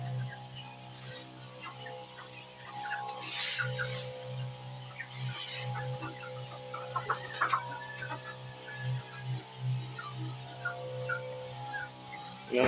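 Hens cluck and squawk intermittently at a poultry farm, a mix of several birds at moderate distance over a steady low mechanical hum, with a few louder calls standing out.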